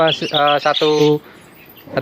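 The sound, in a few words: field bird singing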